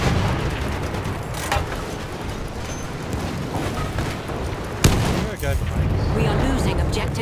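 Heavy cannon booms punctuate a noisy Battlefield 1 battle in the Sinai Desert, with two sharp blasts standing out over constant rumbling and muffled voices.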